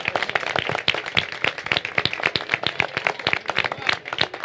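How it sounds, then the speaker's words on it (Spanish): Applause from the crowd at a press conference held by Quito's mayor-elect, a dense run of sharp claps, steady and fairly close, lasting throughout without talk. "le demos un fuerte aplauso a esa ciudadanía que nos apoyó"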